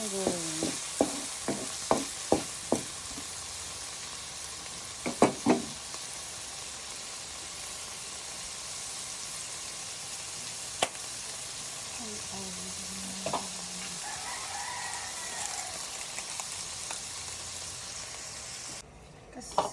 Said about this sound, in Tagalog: Nagluluto ako guys ng pasadong isda.